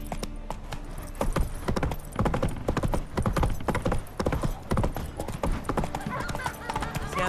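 Rapid hoof clip-clops of a galloping horse in The Witcher 3: Wild Hunt beat steadily and fairly close throughout, with no talking.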